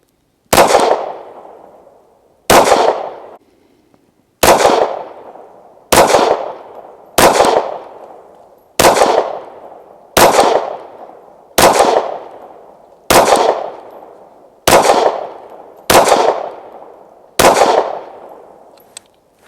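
A Canik TP9 Elite SC subcompact 9mm pistol fires 135 grain hollow point rounds at a range, twelve loud, sharp shots spaced at slow, fairly even intervals of one to two seconds, each with a brief ringing decay.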